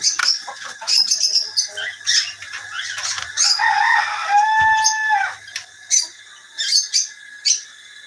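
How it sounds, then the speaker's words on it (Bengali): Cockatiels in an aviary flock with parents and chicks give repeated loud, close, shrill whistles and chirps, rising and falling with a sustained tonal call in the middle. "হচ্ছে আমাদের কোকাটেল"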